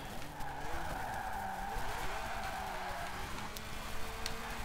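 Car tires skid and squeal continuously while drifting in the racing game Forza Horizon 4, a steady sliding screech over engine drone, loud and close throughout with no talk.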